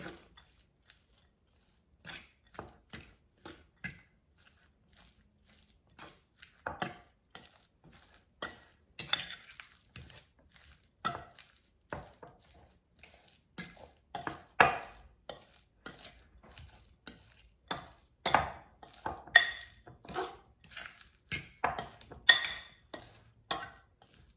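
Twice-baked potato filling with bacon bits being mixed in a bowl: a spoon scrapes and taps in irregular, rapid strokes, starting soft and growing louder and busier, with no talking.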